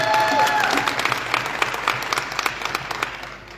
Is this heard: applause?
yes